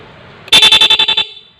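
A loud dual car horn fitted with an interrupter relay blares in rapid pulses, about eight quick beeps chopped on and off in a steady rhythm, then stops.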